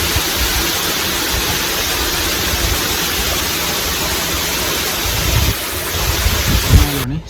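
Steady broadband roar of a waterfall seen along the Hatton–Nallathanni road in Sri Lanka, continuous and fairly loud throughout, with a brief low rumble or handling bump near the end.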